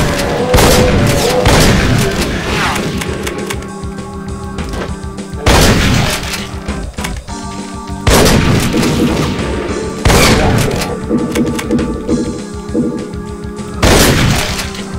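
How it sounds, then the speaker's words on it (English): Heavy gunfire in the video game Meatball Machine, loud booming blasts with shattering crashes recurring every two to three seconds over a dense, noisy game soundtrack. "Ready for the shooting to begin!"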